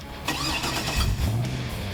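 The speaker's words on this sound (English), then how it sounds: "That car started, you definitely knew which car was coming to set." A Fast and the Furious 6 movie car with a custom Magnaflow exhaust, twin mufflers, an X-pipe and side-exit tips, starts up close and loud, a deep rumbling crank that settles into a throaty idle.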